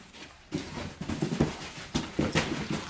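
A pet dog named Luna pants and whimpers close by in a series of short, uneven breathy bursts and soft whines, fairly faint.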